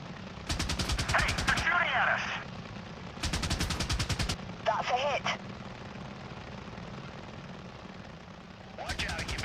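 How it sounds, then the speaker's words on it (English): Gunfire aimed at an attack helicopter in the Apache Air Assault combat game: bursts of rapid automatic shots come in several loud volleys under a steady rotor drone, with short electronic tones between them. "Hey, they're shooting at us! That's a hit."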